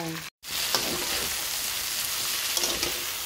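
Chicken drumsticks fry in a pan with a steady, loud sizzle that fills the whole stretch after a brief dropout near the start, with faint stirring clatter now and then.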